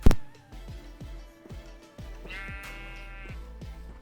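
Sheep in Minecraft bleat repeatedly in short wavering calls spaced about half a second apart, close and clear, with one thin higher-pitched tone briefly layered over the middle of the sequence.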